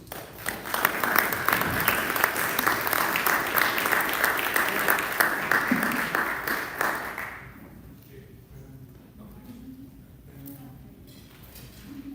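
A room of Rotary club members gives a full round of applause for Rotary Foundation contributors, dense and steady for about seven seconds before stopping abruptly, followed by quieter room noise and faint talk.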